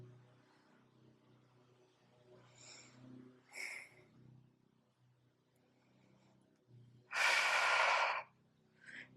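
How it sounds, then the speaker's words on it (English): Breathing during a mat Pilates exercise, soft audible breaths and sniffs through the first half followed by one loud, long forceful exhale near the end, close and alone with no talking. "Exhale on the lower,"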